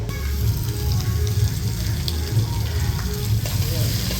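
Chicken frying in a pan for a New Year party meal, a loud continuous sizzle close up with low crackle and faint stirring, no talk over it.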